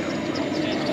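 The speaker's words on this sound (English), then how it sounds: "Look at that Corsair landing." A large radio-controlled model Corsair warbird comes in to land at a model aircraft show, its engine a steady droning hum heard at moderate distance for a brief moment.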